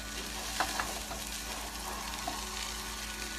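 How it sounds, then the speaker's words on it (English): Organic broccoli sautéing in oil and Kerrygold Irish butter, a steady, fairly loud sizzle with a couple of light stirring clicks near the start, no voices. "Organic broccoli sauteed in the medicated oil and Kerrygold Irish butter right here."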